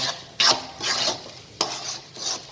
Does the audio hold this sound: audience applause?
no